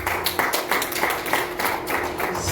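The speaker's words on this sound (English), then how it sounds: "Can we give a round of applause to ourselves?" A group claps in a brisk, fairly even rhythm, close and moderately loud, with no voices.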